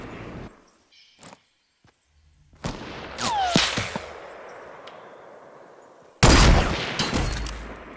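Fortnite solo gameplay gunfire, with a short burst and then loud rapid shots followed by a sustained ringing decay, then another heavy burst of fire, close and dominant with no talking.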